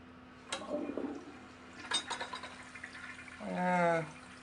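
A toilet being flushed with a low water level during a repair, giving a weak, brief rush of water with clunks and gurgles, ending in a rising, tonal refill hiss, close and alone.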